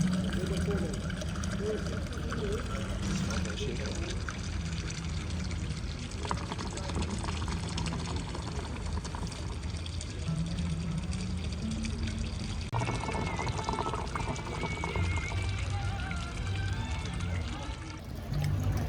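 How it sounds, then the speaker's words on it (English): Continuous watery bubbling and gurgling of a shisha water pipe, heard beneath ongoing chatter and ambient voices in a busy shisha lounge in Dubai. "you've got the shisha bubbling"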